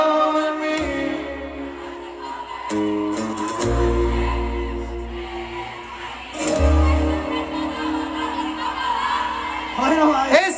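A live concert crowd in San Jose, California shouts and cheers over loud band music, with whoops and yells surging in several bursts, the strongest near the middle and again at the end.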